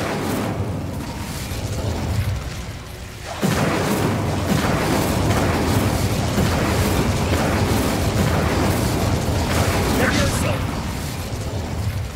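An explosive spell goes off in the video game Hogwarts Legacy, a sudden loud blast that gives way to a sustained rumbling roar with crackling bursts, mixed with game music and effects.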